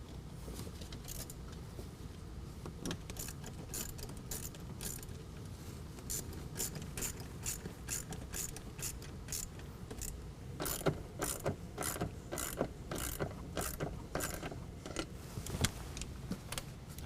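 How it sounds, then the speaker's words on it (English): Ratchet driving an 11mm deep well socket to tighten the band clamps of a carbon fiber cold air intake on a 2019 Ram 1500, giving rapid repeated clicks that grow louder in the second half, close over a steady background hum. "we can tighten down both our band clamps with an 11mm deep well"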